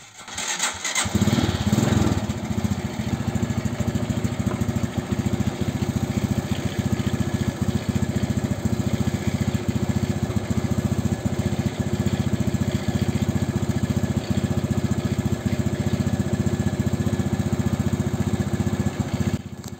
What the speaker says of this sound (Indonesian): kita nyalakan dulu mesinnya, kemudian kita cek arusnya bro